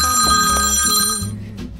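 A telephone rings at a small coffee-roasting business, one loud ring with bright tonal chiming that rings out and fades, with no talking over it.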